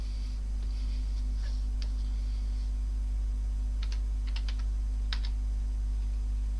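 Computer keyboard typing on a Thomson MO5/TO7-era emulator setup, a few faint scattered key clicks over a strong steady low hum, no speech.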